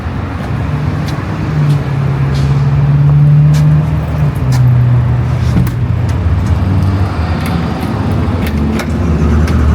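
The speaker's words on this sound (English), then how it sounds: "gas station kind of busy." Cars and other road vehicles move around a busy gas station, with a steady close rumble of traffic and a passing engine drone, and no talking.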